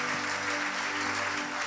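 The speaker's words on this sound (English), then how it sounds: "Let your clap rise to the Lord this morning." A church congregation clapping during a Sunday worship service, steady continuous applause at moderate distance, with a low musical hum sustained underneath.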